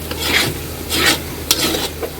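Ground spices, including coriander powder, being stir-fried into kosha in a pan give three or four close, rasping scrapes of stirring over a low background sizzle, with no talking.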